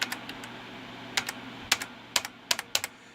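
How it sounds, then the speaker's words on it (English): Keys on an Alton AL2000 silent mechanical keyboard tapped close up, a scattered handful of soft clicks at first, then a quicker run of sharper presses near the end. "Watch what happens when I press numlock."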